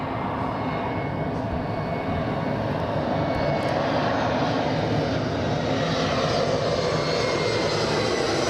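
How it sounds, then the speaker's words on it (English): A Hawaiian Airlines Airbus A321 jet at Los Angeles International Airport gives off a steady, loud engine roar that holds broadly even throughout, heard alone without talk. "We have a Hawaiian Airbus"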